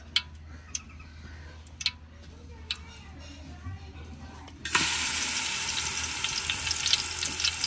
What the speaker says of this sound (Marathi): आता आपण ते परतून घेऊ